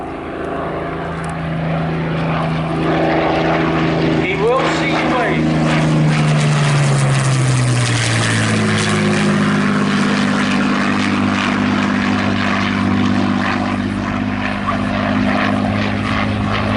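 A propeller-driven model aircraft passes overhead at a model air show, its engine droning louder as it nears and dropping in pitch as it sweeps by, with a voice faintly heard beneath the steady buzz.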